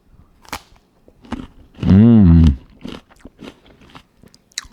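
A crunchy persimmon is bitten into and chewed close to the microphone, with sharp crisp crunches followed by a loud, sustained moist chewing burst in the middle and softer bites after, in a quiet setting.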